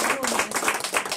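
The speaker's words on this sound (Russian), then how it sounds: "Юбилейному 10-му показу овации" Ovation for the 10th anniversary performance of a play in a Montreal theatre: dense, continuous clapping from a large audience, steady and fairly loud throughout with no pauses.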